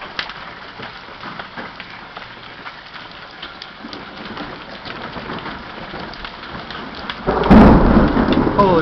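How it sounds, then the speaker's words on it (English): Golf-ball-sized hailstones clatter steadily on surfaces in a dense, crackling patter, with a louder rumbling burst toward the end. "It's hailing."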